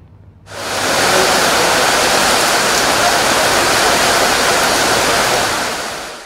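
Heavy rain pours down in Madagali during days of non-stop storms, a dense, steady roar of water that starts abruptly after a brief quiet moment and then holds loud and unbroken throughout.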